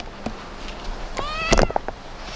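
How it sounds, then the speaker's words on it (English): A domestic cat gives a short rising meow near the microphone after a few soft thumps and rustles, followed by a couple of brief chirpy sounds, with no speech. "She's a very sweet cat."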